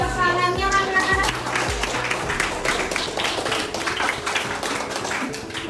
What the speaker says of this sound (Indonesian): Tepuk tangannya anak-anak.